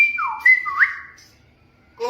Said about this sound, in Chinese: 我吹个口哨，你来帮我翻译